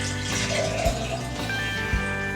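Hot water at about 180 degrees poured into a one-pint jar, a steady close liquid pour with a faint background hum and a couple of soft knocks.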